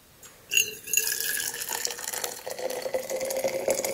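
Hot liquid, instant coffee, is poured steadily into a thermos, a close gurgling, trickling stream that rises in pitch as the vessel fills, with no talk.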